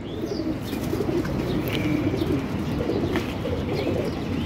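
Pigeons coo steadily in a breeding loft, a dense low murmur of overlapping calls with occasional chirps, close and continuous with no one talking.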